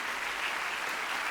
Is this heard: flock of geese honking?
no